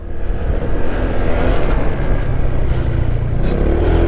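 Honda ADV160 scooter engine on a test ride, a loud, steady motor drone with a low rumbling hum and rising pitch, heard up close and continuous with no talking.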